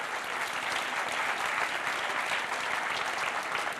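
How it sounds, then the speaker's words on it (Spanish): Steady, dense applause from a large church congregation, loud and continuous throughout with no breaks. "Dale un aplauso al Señor."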